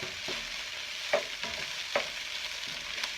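Beef stir fry and fried rice sizzling in a pan, with a steady frying hiss and a few sharp scrapes and clinks of stirring spaced through it, fairly quiet and close, no talking.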